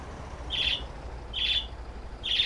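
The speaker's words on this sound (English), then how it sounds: "Bird." A bird outdoors on a farm gives three evenly spaced high whistling calls, each about a third of a second, over a steady low outdoor rumble with no talking.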